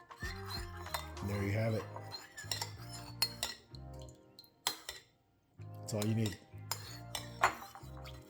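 A metal utensil clinks against a dish while garlic sauce is mixed and thinned out, with scattered clinks and scrapes sounding close by, mostly under someone speaking over a low background.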